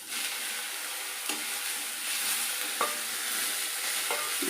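Two medium chopped tomatoes frying in a pan while being stirred, a soft steady sizzle with occasional scraping strokes of the spoon.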